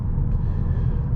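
Petrol engine of a 2022 Peugeot 308 GT Hybrid purring at a low, steady idle-like rumble, heard from inside the car at night with no talk over it.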